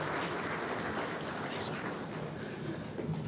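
Broad, steady applause from a breakfast-meeting audience, continuous and fairly even in level across the whole stretch with no voices standing out.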